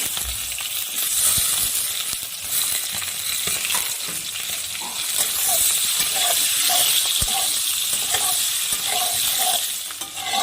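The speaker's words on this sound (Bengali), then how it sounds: "এখন এখানে আমি আলুগুলো ভেজে তুলে নেব" Steady crackling sizzle of small potatoes frying in hot oil until reddened, continuous and close, with occasional scrape of stirring.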